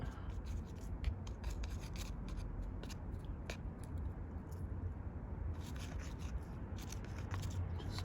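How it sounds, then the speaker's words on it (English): Roots of a potted wintercreeper (Euonymus fortunei) raked out during repotting and root pruning, a steady soft rubbing and scraping that continues throughout at low level, close up with no talk. "Kind of rake the roots out a little bit, get them going in the right directions."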